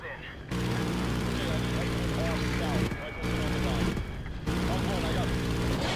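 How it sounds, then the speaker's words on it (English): An A-10 drone aircraft in the Ghost Recon Ghosts campaign roars loud and continuous, with gunfire-like bursts mixed in, the sound dropping out briefly twice. "Use the A-10 drone to take out that tank"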